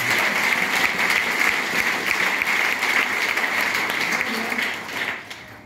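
A church congregation at a Christmas seminar Sunday service breaks into sustained applause, a dense, loud wash of clapping that holds steady and then fades toward the end.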